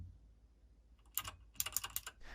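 Keys clack on a Keychron K2 mechanical keyboard resting loosely, almost floating; after a quiet start, quick bursts of crisp, close keystrokes arrive in uneven clusters.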